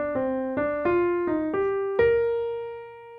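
A single clean instrument plays an ascending inverted melodic minor arpeggio with enclosures, six distinct plucked notes rising stepwise, the last one ringing out and fading, close and alone.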